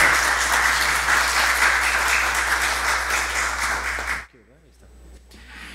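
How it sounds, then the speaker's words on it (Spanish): Audience at a lecture on Mexican constitutional political reform applauding to welcome a speaker, a full, even burst of clapping that cuts off abruptly, leaving a quiet room with faint sounds. "Recibamos con un fuerte aplauso al doctor Arturo Ramos Sobarzo."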